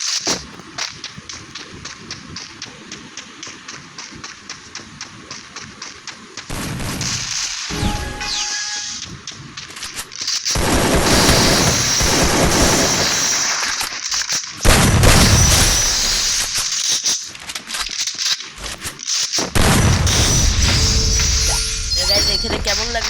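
Gunfire in a shooter video game during a headshot: sharp cracking shots and booming impacts in bursts, loud and dense, with stretches of rapid fire, crashes and a quieter opening section.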